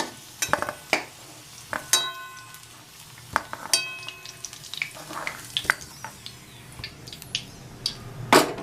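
Onions go into hot oil for a mutton curry, frying with a low sizzle under frequent sharp clinks and scrapes of a spatula against the pan, with no voices.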